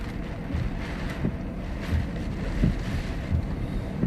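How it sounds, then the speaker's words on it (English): Hurricane-force wind gusts buffet a parked car, a steady low rumbling roar with periodic thumping surges as gusts shake the body, close and continuous without any talk. "Some of those wind gusts just vibrate the fucking car like you would not believe."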